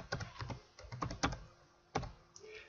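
Fast, uneven keystrokes on a computer keyboard while writing AutoHotkey GUI code, with short clustered bursts of clicks and a final louder key press, close-up and quiet with no voices.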